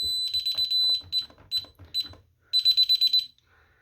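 A DSC home alarm system for a front door sounds a series of loud, sharp beeping bursts, a rapid pulsing run at the end, then a softer tone.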